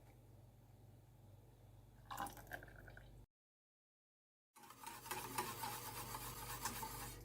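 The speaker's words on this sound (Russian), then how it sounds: "Крем поставила на небольшой нагрев и постоянно помешиваю, варю крем" Custard cream of milk, sugar and vanilla stirred constantly in a pot over low heat, giving a soft scraping rasp that swells midway, drops out briefly, then returns louder and denser.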